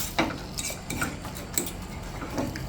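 Scrambled eggs being stirred in a pan with the heat turned off, giving light scraping and tapping of a utensil against the pan in an irregular rhythm, close and fairly quiet.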